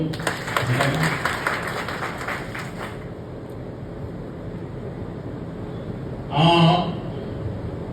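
Audience applause at a public meeting, a loud broad wash of clapping over the first few seconds, then a steady background murmur and a brief louder burst near the end.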